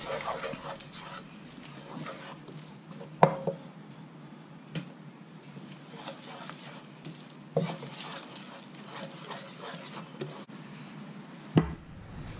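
Milk stirred into a curried seafood pie filling, a soft wet swishing with a few sharp clinks of a spoon against the pot, close and quiet, with a dog whimpering faintly in the background.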